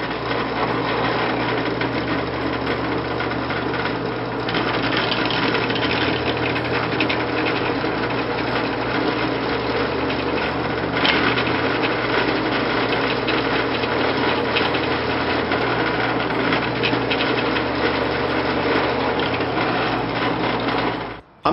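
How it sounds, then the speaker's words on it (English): A drill with a short bit bores a cross hole through a metal workpiece with a steady, loud mechanical whir and chatter that runs without a break for about twenty seconds and then cuts off, with no talking. "I'm going to go ahead right now and drill this to its final dimension."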